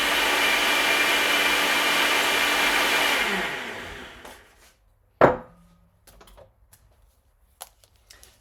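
Small home kitchen blender whirring loudly for about three seconds while making a strawberry and banana smoothie, then winding down to a stop, followed by a clunk and scattered light knocks.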